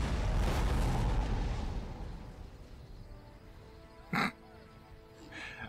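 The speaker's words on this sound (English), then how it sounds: "all of that was one canister shot" A cannon firing canister shot in a video game booms loudly up close with a long rolling rumble, then fades and leaves two short sharp cracks of distant gunfire.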